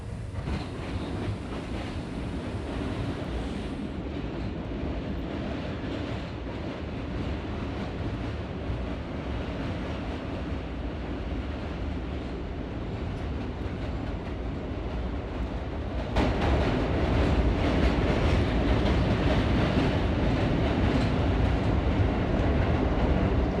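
A subway train on an M line in a train video game rolls along the rails with a steady, loud rumble and rhythmic clatter that grows louder partway through, with no talk.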